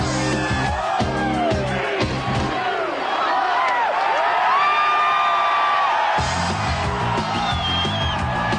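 A crowd cheers and whoops at a New Year's celebration, with loud layered voices and a steady roar, while booming music beats under and around it.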